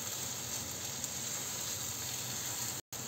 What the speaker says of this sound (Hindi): हमें इसको अभी भूनना है कम से कम चार पाँच मिनट तक